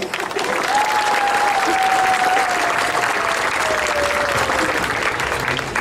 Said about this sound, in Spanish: Quiero que en el video quede plasmado sus aplausos